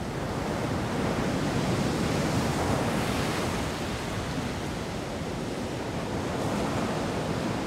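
Ocean surf off the Caribbean island of Curacao, a continuous, fairly loud broadband wash of breaking waves with some wind noise, steady throughout with no voices.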